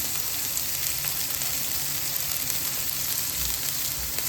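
Onion, carrot, capsicum and beans stir-frying for Hakka noodles, a steady close broadband sizzle with a constant hiss throughout and a couple of low clunks near the end.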